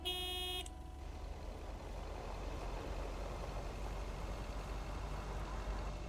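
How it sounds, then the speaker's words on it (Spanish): Car horn in the video game Lake, one loud sustained honk lasting under a second, followed by a steady engine rumble that continues to the end without talk. "Ah, ahora sí, a la bocina,"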